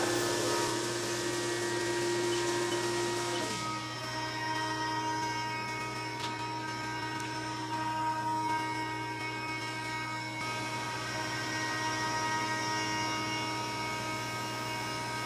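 An aluminum part takes a deep spiral cut on a CNC mill, a steady loud machining drone with layered tonal whine and constant hum running throughout, shifting slightly in pitch partway through.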